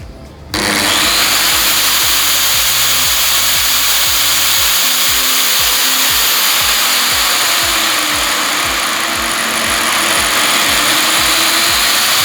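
An angle grinder fitted with a variable speed regulator starts with a sharp jolt, then runs continuously and loudly for several seconds, its high motor whine rising and falling in speed with a rough, pulsing drone underneath.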